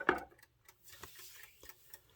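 Faint, steady mechanical ticking of a wind-up alarm clock in a quiet room, preceded by a brief louder knock at the start.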